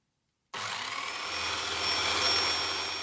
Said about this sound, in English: Listen to the noise of the motor.